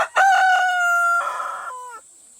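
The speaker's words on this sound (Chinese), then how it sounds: "当初决定不把它下锅，主要是因为它看到我之后就会疯狂的打鸣" A large rooster on a farm crows once, loud and close, a long strained call that rises, holds and trails off with no other sound.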